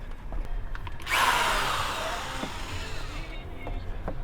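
A power drill bores into the metal body of an FJ Cruiser to mount a 52-inch light bar, a loud whining burst that starts suddenly, runs about two seconds and then tapers off over steady background noise.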